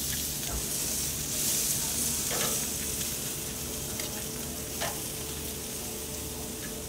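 Asparagus sizzles on a grill over a heat deflector, a steady close crackling hiss with occasional louder pops, and no talk over it.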